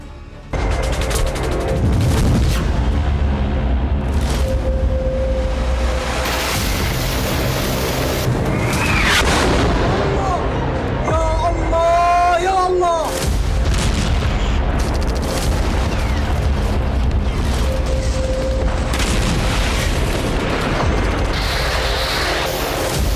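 Explosion at a hospital in Gaza: a continuous roar of blasts and deep booms under heavy rumbling noise, with shouting and crowd voices mixed in throughout.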